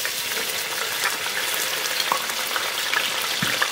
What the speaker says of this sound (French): Je commence toujours par mettre de l'oignon dans l'huile